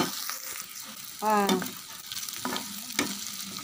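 Onions frying and stirred in a pan for a vegetable dish, with scraping stirs and a soft sizzle; a quick rattling burst stands out midway, and the pan sounds close.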